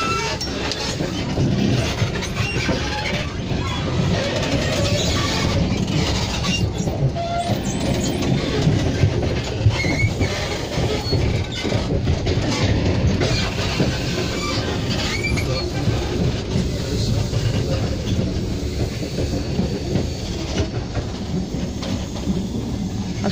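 An LNER HST express pulling into Newcastle, heard from on board as a continuous loud rumble with rhythmic wheel clatter and occasional squeals, plus faint background voices.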